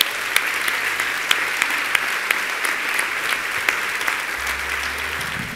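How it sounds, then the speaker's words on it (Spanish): Steady applause from a church congregation at the close of a sermon, dense and sustained throughout with a few sharper claps standing out, a low hum entering near the end. "Dale un aplauso al Señor."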